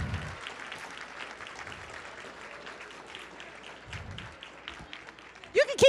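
A youth conference audience claps for Newark mayor Ras Baraka as he heads to the stage, moderate applause running under a speaker's voice, with a sharp louder sound at the very end.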